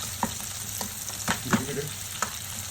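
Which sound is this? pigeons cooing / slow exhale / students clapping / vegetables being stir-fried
vegetables being stir-fried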